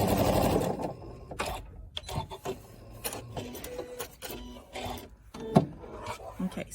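A home sewing machine stitching quilt block pieces in short bursts of rapid mechanical whirring, separated by pauses with light handling sounds and soft talk.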